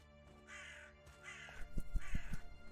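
Crows cawing in a horror adventure game set around an orphanage, a few harsh repeated caws in separate bursts with lower thumps near the end, no talking.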